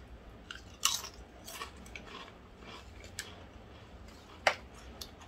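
Bite-size Pringles potato chips are bitten and crunched close up, with a few sharp crisp snaps spaced apart amid quieter chewing.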